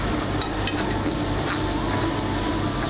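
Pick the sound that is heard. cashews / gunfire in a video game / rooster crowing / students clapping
cashews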